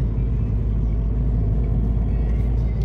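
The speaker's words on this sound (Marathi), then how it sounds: "छान वाटते गाडी चालवायला." A car climbs through the Kasara ghat on the way from Uran to Shirdi, its engine giving a steady, close, low rumble that holds throughout, with no talk over it.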